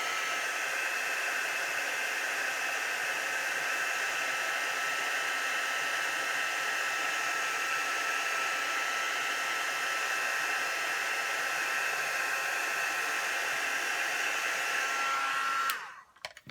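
A hair dryer blows steadily on a coated stamping card, a loud continuous whooshing roar that holds for about fifteen seconds before cutting off abruptly at the end.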